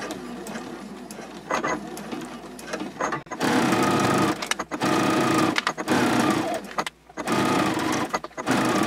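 A sewing machine stitches a seam on a fabric card clutch, an eighth of an inch from the edge, running in several long steady bursts separated by brief pauses, close and loud with no talking.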